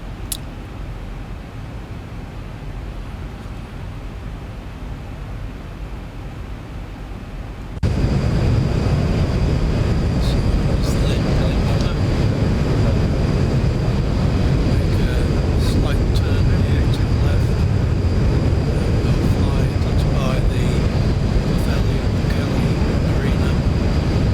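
A Lufthansa airliner in a flight simulator game starts its takeoff roll on runway 18. Quiet cockpit ambience gives way abruptly to a loud, sustained engine roar, with a steady high whine running above it.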